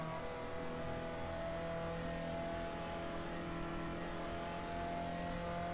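Race car in the Raceroom sim at full throttle on the Zandvoort GP circuit, DTM touring class, its engine holding a loud steady high-revving drone throughout with no voices.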